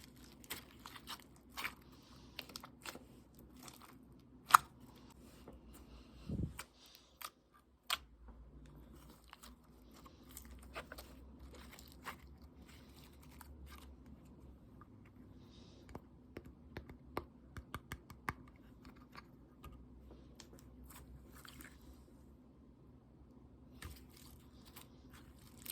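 Slime being poked and squished for ASMR, giving a run of quiet, close, sticky clicks and crackly squelches in irregular bursts over a soft steady background hum, with no talking.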